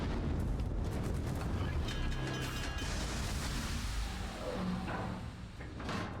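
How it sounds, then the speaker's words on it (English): Bombs explode around a British tier 10 cruiser in the naval battle game World of Warships, rolling booms and rumbling blasts layered with mechanical game effects, sustained and loud throughout. "Oh, look, the Essex is bombing you."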